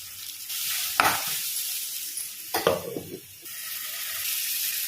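Sliced onion and green chillies fry in a pan after ginger-garlic paste, giving a steady sizzle with a couple of louder bursts as they are added and stirred.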